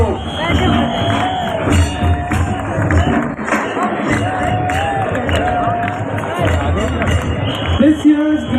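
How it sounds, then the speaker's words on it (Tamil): A crowd at a Gramotsavam sports event in Devarayapuram, Coimbatore, cheers and applauds for the players, a loud, continuous roar of voices and clapping with whoops rising throughout, a voice speaking over it. "எல்லா வீரர்களுக்கும் கரகோஷத்தை எழுப்பி என்ற உற்சாகத்தை ஊக்கப்படுத்துவோம்"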